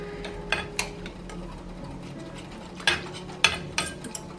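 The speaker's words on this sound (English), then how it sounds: "and we're going to whisk it again." Sugar free hot chocolate whisked in a cup, a few sharp clinks and scraping strokes at irregular intervals over a quiet kitchen background, close and moderately loud, with no talking.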